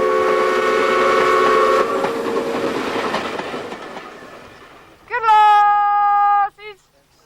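A train on the restored Strathspey Railway in Scotland rumbles and clatters past with tonal hum, then fades before a loud, sustained whistle blast sounds near the end.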